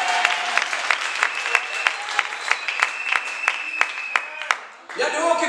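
A Pentecostal church congregation claps in a steady, rhythmic beat of sharp hand claps over a dense wash of sound, ending as a voice cuts in near the close.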